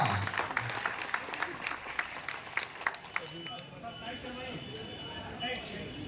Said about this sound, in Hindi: हमारी उप महापौर पल्लवी, एक बार तालियों की गड़गड़ाहट होनी चाहिए भैया।